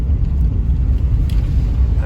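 A 2003 Ram truck with a 6.0 diesel engine idles nearby, giving a steady, loud low rumble without breaks, with a voice speaking over it.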